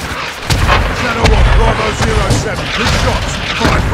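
Artillery fire from Call of Duty Modern Warfare II booms in heavy, rumbling blasts with distant crackling gunfire, loud and dense, with voices briefly heard amid the barrage.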